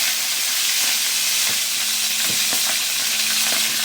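Fish steak sizzles and crackles in hot oil with a constant frying hiss, broken by a few soft pops and spatters.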